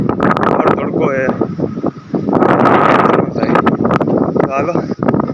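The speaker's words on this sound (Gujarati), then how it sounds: "હું જબરદસ્ત વાવાઝોડું જેવું પવન છે" Strong, stormy wind blows outdoors on a sunny day and rushes loudly against the microphone in heavy gusts, while a person talks over the roar.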